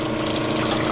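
Water applied to a gum bichromate print, a brief continuous wet splashing and trickling sound, close up.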